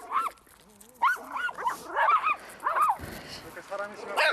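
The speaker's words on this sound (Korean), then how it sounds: "멀리서 사람이 다가오자 다시 짖기 시작합니다." A dog barks in short, irregular bursts at a person approaching from a distance, close and fairly loud, mixed with voices.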